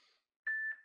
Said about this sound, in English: So when you hear that beep, start transitioning.